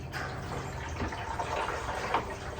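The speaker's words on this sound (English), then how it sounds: "I'm just going to monitor this as we put the water in" Water pours into a 7-gallon toilet tank aboard a sailboat, a steady close hiss and trickle that runs unbroken for the whole moment, with no talking over it.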